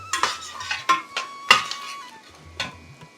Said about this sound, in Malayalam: കൽക്കണ്ടം അത് മുഴുവൻ നമുക്ക് ചേർത്ത് കൊടുക്കാം.